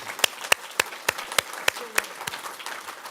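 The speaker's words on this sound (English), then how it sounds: "How about a round of applause for this guy?" Sharp, evenly spaced hand claps from a gathering at a Pluto flyby celebration, around a dozen distinct claps in quick rhythm over a few seconds, fairly close and moderately loud, with faint murmuring behind.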